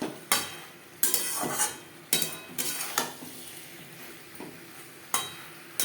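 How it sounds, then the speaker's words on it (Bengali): Potatoes and eggplant stirred in a pan over a high-to-medium flame: several sharp utensil scrapes and clinks against the pan at irregular intervals, close by, over a faint background sizzle. "হাই টু মিডিয়াম ফ্লেমে তিন চার মিনিট আলুর সাথে বেগুন নাড়াচাড়া করে নেব"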